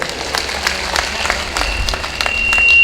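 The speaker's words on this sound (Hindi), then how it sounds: "मैं चाहता हूं ये सदन एक बार तरुण फाउंडेशन और तरुण राठी जी को बधाई देने के लिए जोरदार तालियों से।" An audience at a Hindi national poetry gathering (kavi sammelan) claps loudly: scattered, overlapping claps from a hall crowd that grow denser and louder toward the end, with no speech over them.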